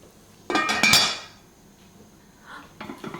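Non-toxic pots and pans clink and clatter in a kitchen, a cluster of sharp metallic knocks and rings near the start, then quieter scattered taps a moment later, close and without talk.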